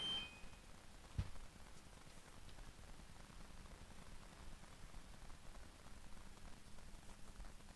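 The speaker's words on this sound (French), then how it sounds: "comme il pleut là" Steady, faint rain falls continuously with a soft patter, one sharp click near the start, and no voices.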